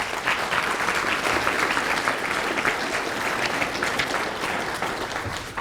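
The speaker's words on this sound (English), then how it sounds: "So let's give him a round of applause." A western art award show audience claps in a continuous, fairly loud round of applause, dense and even from start to finish with no voices standing out.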